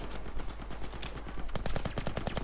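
Rapid bursts of automatic gunfire in a Battlefield V tank battle, loud and close, firing in quick repeated volleys.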